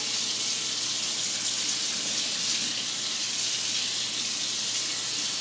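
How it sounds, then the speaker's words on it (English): Hot water pours steadily from a kitchen tap into a sink while cast iron and carbon steel pans are washed clean of grease, a constant loud hissing splash with no break and no voices. "you want hot water flowing down there to wash all that grease out."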